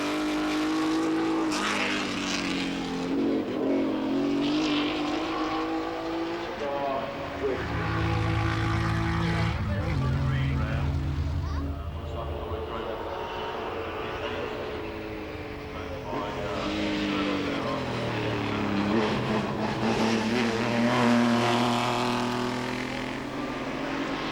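A Maserati 250F race car engine roars loudly, revving and shifting with rising and falling pitch, as the car accelerates and passes by close.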